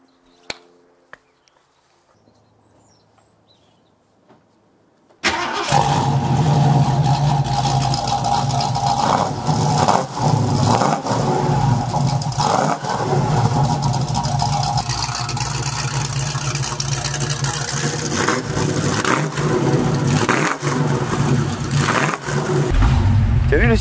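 A 1967 Ford Mustang Fastback engine bursts into life after a few quiet seconds of faint voices, then roars loudly and steadily as the car pulls away and drives on, with rising revs throughout.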